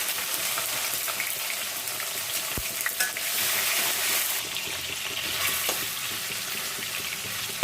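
Nigella seeds (kalo jire) fry in hot oil for a pabda fish curry, giving a loud, continuous sizzle with occasional crackles and pops close by.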